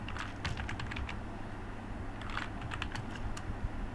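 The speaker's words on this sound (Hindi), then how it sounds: "तो इन सभी का हम अगेन लेजर बनाएंगे, यहाँ पे लिखेंगे नारायण," Typing on a computer keyboard while entering ledger data in Tally ERP 9 accounting software: two bursts of quick, light key clicks over a steady background hum, with no talking.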